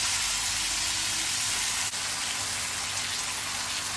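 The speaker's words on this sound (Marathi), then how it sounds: "सगळे बटाट्याचे काप मी याच्यामध्ये टाकते तव्यामध्ये." Potato slices frying on a hot tawa with oil, giving a steady, close hiss and sizzle that holds at an even level throughout, with no talking.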